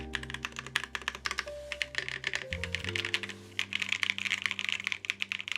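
Typing on a custom-built Sunset 80 mechanical keyboard with JWK Bluey switches: rapid, close clacking keystrokes in irregular bursts, somewhat hollow in tone, over a faint sustained musical backdrop.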